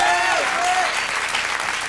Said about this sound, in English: That was nice of the audience to applaud like that at your prompting.